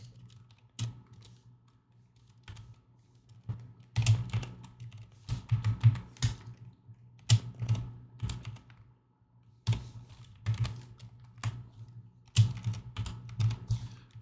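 Typing on a computer keyboard, irregular clusters of soft clicking keystrokes close by, pausing between bursts over a faint steady low hum, with no voices.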